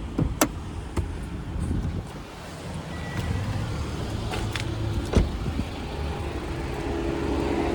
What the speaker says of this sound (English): I'll just pop the bonnet.